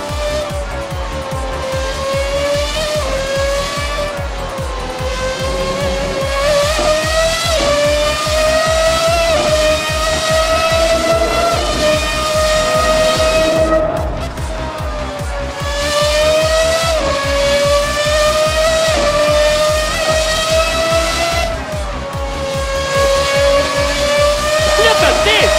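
A 1990s V12 Formula 1 car races in Assetto Corsa, its loud, high engine wail rising and dropping through gear changes, steady and continuous throughout.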